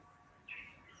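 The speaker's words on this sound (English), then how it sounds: "there are some background noise in terms of the birds in the background" Birds chirp faintly in the background during an indoor lesson, one brief high call standing out over a low room hum.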